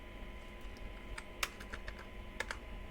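Keystrokes on a computer keyboard while an email address is entered into an HTML contact form: sparse, close clicks with a few sharper taps, no talk.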